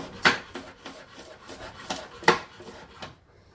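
Knife finely chopping two garlic cloves on a board, a series of separate close taps and scraping cuts at an uneven rhythm, with two sharper knocks standing out, and no talking.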